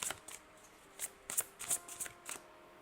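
A deck of playing cards is shuffled up close during a tarot-style card pull, giving several soft riffling bursts with quiet gaps between them and no voices over the sound.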